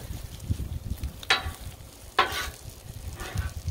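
Half an onion and a heaping spoonful of minced garlic sizzling on a Blackstone griddle beside pulled pork, a steady low sizzle broken by two sharp bursts of hissing as food is stirred or tossed.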